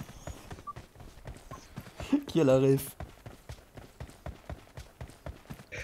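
Horse hooves clip-clop in a steady, rapid rhythm through the PUBG Mobile game, sitting under continuous chatter from players talking over it.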